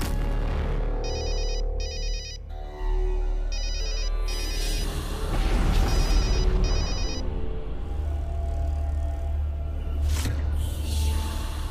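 An indoor telephone in a Hindi TV serial gives repeated electronic ringtone bursts in a steady pattern over a constant low background hum, with no voices.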